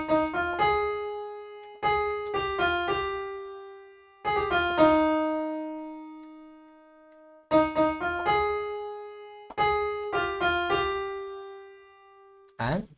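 Keyboard plays a song from Tamasha in clustered phrases of a few notes that decay into sustained tones, with brief pauses between, fairly soft and alone.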